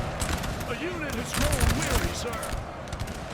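Musket volleys fired by French troops against the Spanish center in a Napoleonic-era game battle crackle in quick ragged bursts, mixed with shouting soldiers' voices throughout.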